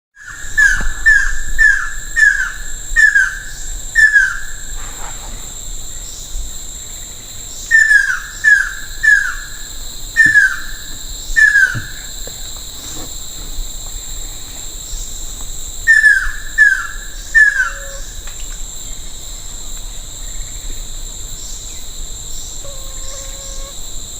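A ruddy kingfisher gives repeated descending trilling calls in short series of four or five notes, several times over, against a steady high drone of insects.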